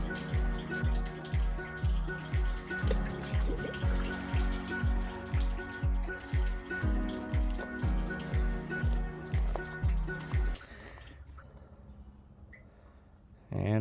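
Water splashing as a raw chicken is rinsed, rapid regular pulses of splashing that run steadily before dropping to a quieter trickle near the end.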